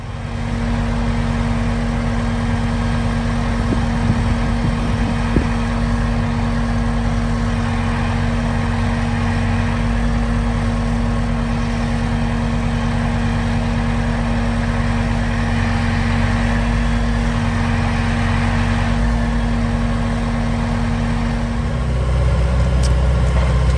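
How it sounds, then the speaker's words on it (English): A gravel truck idles near a storm-cleanup site in Kentucky where brush and saw logs are being hauled, its engine a steady low, continuous rumble throughout with no talk. "Gravel truck number 2 coming to get more brush and some saw logs out front here"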